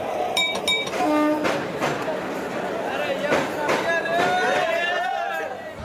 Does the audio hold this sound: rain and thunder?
no